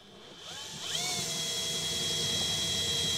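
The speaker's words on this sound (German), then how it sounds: "Ich meine, ich kann auch selbst bohren, wenn du möchtest." A power drill bores through roof insulation for solar panel cables, its motor rising in pitch as it spins up and then holding a loud, steady whine.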